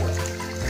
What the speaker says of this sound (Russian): потихонечку открывай кран,